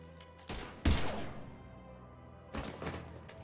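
Gunfire in a Mass Effect 3 firefight, a few heavy impact bursts with ringing decay, fairly close, over a low ambient hum.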